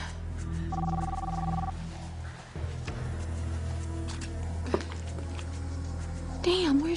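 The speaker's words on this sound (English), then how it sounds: "It's ringing" A telephone ringing in a soap opera scene, a short electronic ring tone heard over music and background sound, with a brief warbling tone near the end.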